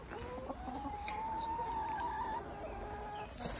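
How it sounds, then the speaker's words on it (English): Backyard chickens pecking at garden greens cluck softly and steadily at close range, with a brief sharper call near the end and no talking. "our chickens enjoying the greens that we gave them from the garden."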